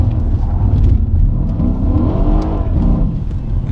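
A Mercedes E63 AMG S rated at 736 bhp accelerates hard while drifting, its engine a loud, close, growling roar that climbs and sweeps through the revs with a gritty, rough edge.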